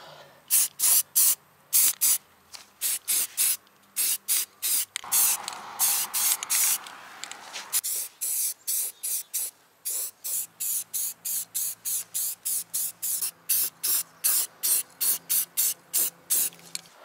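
Aerosol spray can painting Toyota Tundra truck parts black: a long run of short, loud hissing bursts in a steady on-off rhythm, with a couple of longer sustained sprays in between, close to the can.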